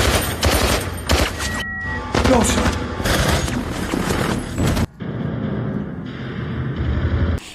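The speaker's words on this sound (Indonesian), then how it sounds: "Dan di sini terjadilah baku tembak antara mereka." A gunfight in an action film, with dense bursts of rapid gunfire and booming shots crowding the first five seconds, followed by a quieter stretch of rumbling ambience with lighter scattered sounds.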